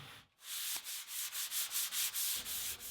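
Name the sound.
sanding joint compound filler and primer on MDF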